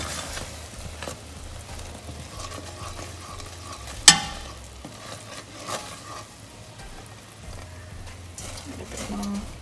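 Grated coconut is stirred in a pan over low heat, a soft scraping and faint sizzle with a sharp spoon clack partway through, close and quiet.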